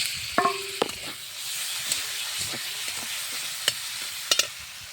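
Chopped tomato frying with onion in mustard oil, a soft steady sizzle broken by a few sharp clatters of a spatula against the pan, fairly quiet and close, with no voices.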